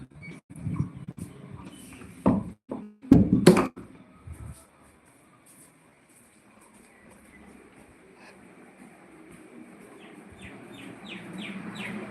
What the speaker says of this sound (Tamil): பறவைகள் சத்தம்